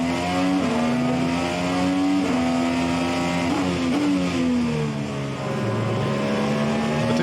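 A Dallara IR18 IndyCar engine in the racing sim rFactor 2 drones loudly and steadily, its pitch rising and dipping with gear changes and throttle, close and continuous with no talk.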